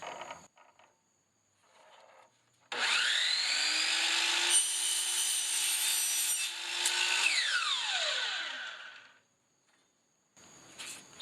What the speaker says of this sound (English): you can cut these pieces if you get the aluminum pieces with the chop saw